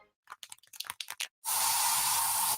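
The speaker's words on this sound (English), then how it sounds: "So you just used bug spray in your home." Bug spray hisses from an aerosol can in one long, loud, steady burst of about a second, right after a stretch of quick clicking and tapping.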